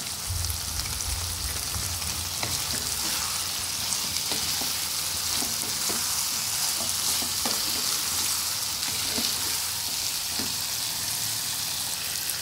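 Chicken frying in a pan with Kashmiri chilli, a loud continuous sizzle with repeated scraping strokes of a spoon stirring through the pieces, close and steady with no talking.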